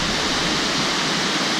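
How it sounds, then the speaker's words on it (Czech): Bousra, a two-tiered waterfall in the Cambodian jungle, pours with a loud, close, continuous roar of falling water, steady and unbroken throughout. "A tohle je Bousra, dvoustupňový vodopád."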